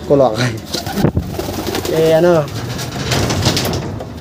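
Racing pigeons coo in a loft after a 132 km first-lap grand pooling race, with several rising, warbling calls close by and a speaking voice audible around them.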